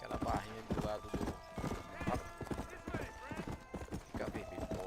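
Horse hooves in Red Dead Redemption, a steady, rhythmic clip-clop of a trotting horse, close and loud, with a whinny and someone speaking over it.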